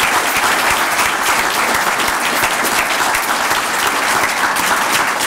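Sustained audience applause at an award ceremony honoring the state comptroller, dense and loud clapping from a large crowd that holds steady throughout without pause.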